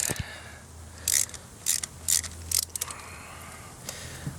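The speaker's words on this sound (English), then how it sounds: "Another thing that's handy is one of these articulating ratchets here." A Craftsman articulating ratchet clicks in several short bursts, about five quick sharp ratcheting runs close by, while working on the spark plugs of an Infiniti G35, with quiet pauses between strokes.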